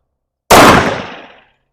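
One loud, crisp shot from a SIG Emperor Scorpion 10 mm handgun with a 5-inch barrel, fed 10 mm range ammo. An abrupt crack fades through a roughly one-second echoing tail, and no one speaks.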